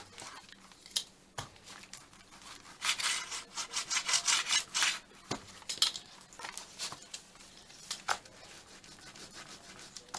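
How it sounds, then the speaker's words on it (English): A brayer rolled back and forth over a junk journal made from paper, giving repeated scratchy, rasping strokes in uneven bursts, close to the microphone and fairly quiet, without talking. "Grab my trusty brayer."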